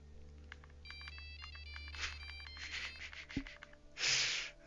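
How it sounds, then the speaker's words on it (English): A phone ringtone plays during a stream of Jurassic World Evolution 3, a short melodic electronic ring that repeats a few times, fairly faint, ending in a breathy burst of noise. "if you hear a phone ringing, you're not imagining things"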